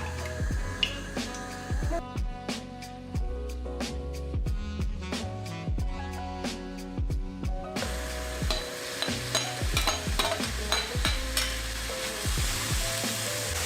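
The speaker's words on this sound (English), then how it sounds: "in goes the onion to saute for about 7 minutes with the peppers" Onion and peppers sauté in olive oil in a pan, with a steady sizzle and repeated stirring scrapes and taps throughout. The frying grows louder and brighter in the last few seconds.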